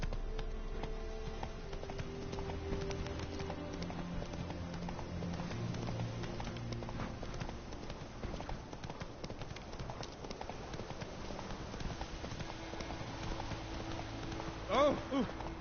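Roach, a horse in The Witcher 3, gallops with steady clip-clopping hooves under game music, with a brief louder burst near the end and a voice talking at times.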